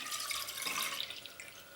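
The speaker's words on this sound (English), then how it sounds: "Place the milk in a medium or large saucepan" Goat milk pours into a stainless steel saucepan in a short, soft, hissing liquid stream that fades toward the end, heard alone and fairly quiet.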